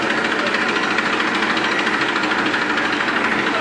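A Massey Ferguson 241 tractor runs close by while reversing, its diesel engine giving a loud, steady, rattling drone with no break for several seconds.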